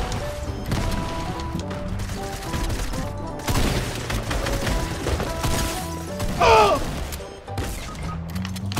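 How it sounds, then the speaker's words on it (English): Grenades going off in Fortnite during a trios match, heavy crashing bursts and clatter in a busy firefight, with a louder blast near the end. "They're throwing grenades!"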